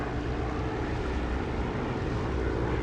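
An aircraft descends in a DCS flight simulator game, its engine a steady, broad, low droning rumble that holds even and unbroken.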